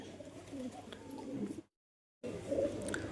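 Pet pigeons coo softly close by, with low murmuring calls and light rustling, then a short gap of silence before the cooing resumes.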